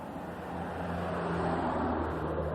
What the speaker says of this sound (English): Okay, Gil, before a car hits you